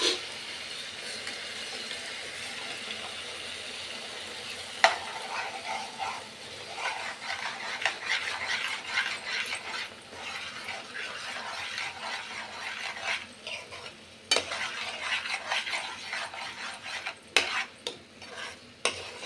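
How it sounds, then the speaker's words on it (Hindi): Egg bhurji cooking: beaten eggs stirred into frying masala in a pan, with a continuous soft sizzle and frequent scraping and clinking of a spatula against the metal, close and moderately quiet, no talking. "अंडे फेंट के रखे थे इनको धीरे धीरे डालेंगे और चलाते रहेंगे"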